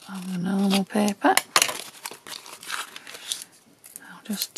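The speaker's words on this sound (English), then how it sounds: "Just tear that edge off." Tracing paper tape being torn along its edge, a quick crinkly rip followed by papery rustling and crumpling at close range, with a voice speaking over the handling.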